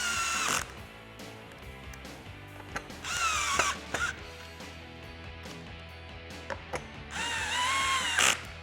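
A power tool drives screws into the plastic header of a Smittybilt OEM soft top on a Jeep Wrangler JK, with several short whirring bursts and ratcheting clicks between quieter pauses.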